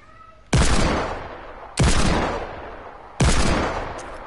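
Three loud, booming gunshots from a video game ring out at slow, even intervals, each one followed by a long decaying tail, with no talking over them.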